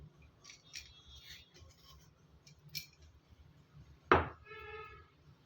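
A whole onion crushed for drumstick leaves soup, one sharp, solid crack or thud near the end, then a faint ringing, after quieter small knocks and rustles.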